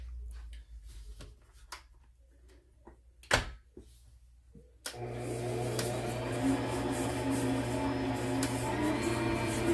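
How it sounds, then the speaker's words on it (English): An electric stand mixer creams cake batter while flour is added, a steady loud motor hum starting abruptly halfway through after a few quiet bumps and clatters. "And then we're going to keep adding to the mixer as we're going."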